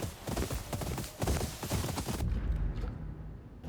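Horse hooves clip-clopping in the video game Ghost of Yotei, a dense rapid drumming of hoofbeats under game sounds that drops off sharply partway through, leaving a quieter, lower rumble.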